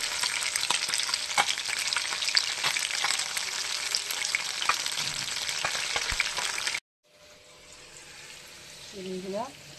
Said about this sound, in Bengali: আলু ভাজতে দিয়ে দিয়েছি